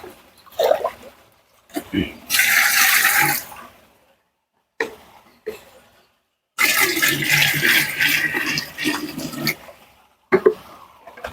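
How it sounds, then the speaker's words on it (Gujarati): Water gushes and splashes into a clay pot in two long pours, about five litres, separated by pauses with brief bits of talk. "આવી રીતે પાણી પાંચ લીટર ઉમેરી દેવાનું છે"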